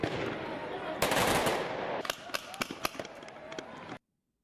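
Quick strings of sharp popping shots from a paintball gun, fired in fast irregular bursts after a loud rushing surge, then cutting off abruptly.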